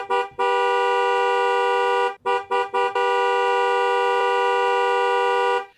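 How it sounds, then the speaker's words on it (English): A car horn blares in long, loud sustained honks, broken by a few short angry taps in the middle before another long held blast. "How we honk matters."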